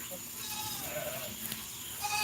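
Goats bleat on a farm by the morning milking stanchion, with thin, wavering cries rising briefly over steady background noise while a person talks throughout.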